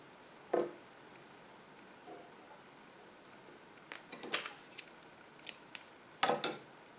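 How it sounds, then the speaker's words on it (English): Scissors snip through crochet yarn in a quiet room, a few faint, sharp clicks and cuts spaced out, the loudest cluster near the end, with no talking. "And then just cut the previous colored yarn."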